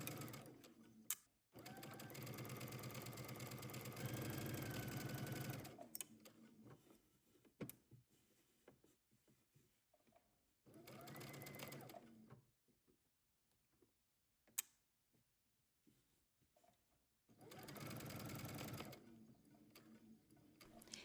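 A sewing machine stitching a skirt seam on a house dress, running in three separate bursts of steady rapid whirring, each a few seconds long, with quiet pauses, small clicks and handling noises between them.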